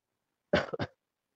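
A caller on a live online call coughs once in a short double burst, close and clear against silence.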